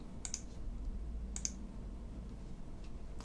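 Computer mouse clicking in a game editor, two sharp, close clicks about a second apart and a fainter third one, over a quiet steady hum.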